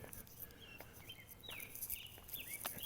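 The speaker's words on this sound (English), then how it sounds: "I can hear the birds chirping," Birds chirp faintly in the dark at dawn around 5 a.m., scattered short tweets and whistles against a quiet background with soft footsteps.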